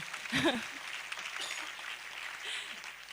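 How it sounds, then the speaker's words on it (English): Applause from a large audience at a high-level academic and scientific meeting, a steady wash of many hands clapping at moderate distance, opening with a brief voice and carrying on evenly to the end. "We can also give them a round of applause"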